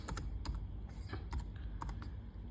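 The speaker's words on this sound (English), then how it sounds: "I'm just simply gonna type the name of the file Keepass" Quiet, irregular keystrokes on a computer keyboard, typed steadily as a file name is entered, with soft clicks spaced close together.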